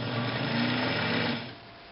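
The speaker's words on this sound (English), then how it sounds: "go through this loop up here, over to the bobbin, poke it through the hole, and start the motor running." An Elna Transforma sewing machine motor whirs steadily while winding a bobbin, a close, even mechanical hum that drops off abruptly near the end.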